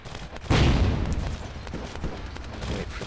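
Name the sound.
small explosion in Vampire: The Masquerade - Bloodlines video game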